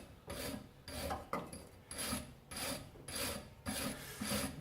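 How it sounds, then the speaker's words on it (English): A wire brush scrubs around a brake caliper piston in quick repeated strokes, close and rhythmic, each pass a harsh scratchy rasp with short gaps between, and no talking. "first job is just to give the piston a quick clean round with a wire brush"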